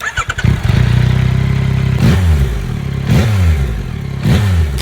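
A 2025 Yamaha R9 sport bike on its stock exhaust starts with a brief clatter, settles into a loud close idle, then gets three sharp throttle blips about a second apart.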